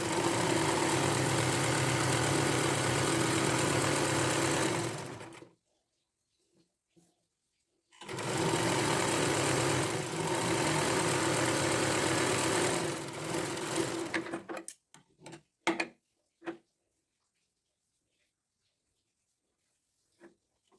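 A sewing machine stitches down the folded edge of a cotton pillow cover in two long, steady runs of about five seconds each, broken by a short pause, then a few brief clicks and handling noises near the end.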